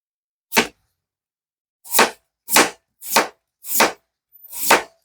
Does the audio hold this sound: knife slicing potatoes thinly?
yes